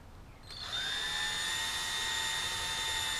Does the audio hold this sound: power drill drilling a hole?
yes